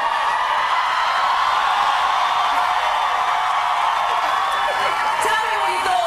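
A live studio audience on a televised singing competition applauds and cheers, a dense, sustained roar of clapping with whoops that continues without a break, a voice faintly audible underneath.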